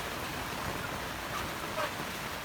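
Heavy rain pours steadily onto a rooftop garden, a dense even hiss with no break, moderately loud and without voices.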